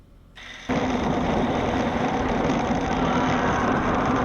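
A moped engine runs steadily in a played-back video clip after a short quieter start, a constant buzzing drone that fills the clip.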